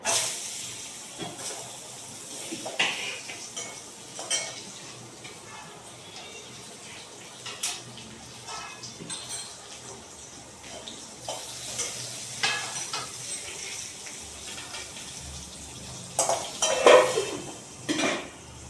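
Potatoes fry in a pan while a utensil scrapes and clatters against the metal in repeated close knocks over a faint background sizzle.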